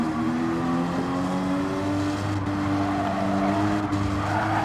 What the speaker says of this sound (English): he just hits too much curb and it's spun him just a little bit out